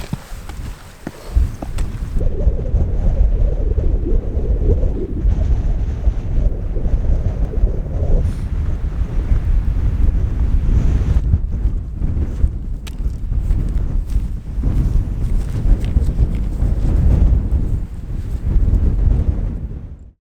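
Strong wind buffeting a microphone outdoors during a landscape photography hike, a steady loud roar of rumbling gusts lasting throughout with no talking.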